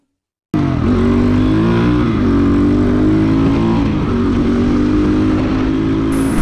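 A motorcycle pulls away with a small wheelie, its engine loud and close, revving up through rising gear-like pitch sweeps before settling into a steady, strong drone.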